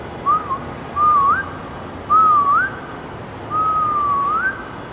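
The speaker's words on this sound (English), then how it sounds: "They have a good echo if you do some whistling" Someone whistles three rising, sliding phrases, each ringing with a noticeable echo under a tiled station vault in Lower Manhattan, with brief pauses between them.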